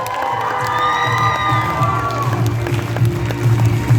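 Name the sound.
crowd applause and cheering at red carpet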